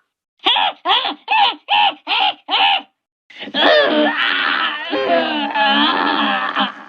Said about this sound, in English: There's actually an unused sound effect for Cagney when he gets knocked out.